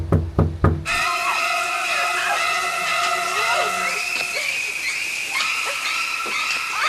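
Several sharp knocks on a condo door sound in quick succession, then a loud steady hiss with whistling tones takes over and continues to the end.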